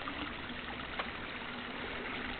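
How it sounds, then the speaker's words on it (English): A small water cascade in a creek gives a faint, steady rushing trickle from a short distance away. "You can hear a little cascade up there"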